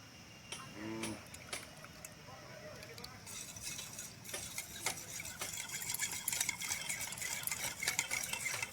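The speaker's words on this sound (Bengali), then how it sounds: "কিছুক্ষণ ভালো করে মিশিয়ে নিয়েছি।" A mixture of mango pulp, sour yogurt and warm milk is stirred in a container, giving soft repeated clinks and swishing scrapes that grow busier over time against a low background hum.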